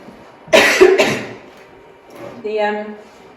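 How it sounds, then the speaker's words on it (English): Two quick, close coughs ring out, followed by a short throat-clearing sound with a bit of voice. "I keep trying not to cough on you all with talking too much"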